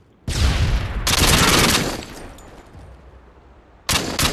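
UMP submachine gun fire in a Search and Destroy match of a first-person shooter on the Karachi map. Two loud, close bursts of rapid automatic fire ring out, then a tailing echo, then another burst starts at the end.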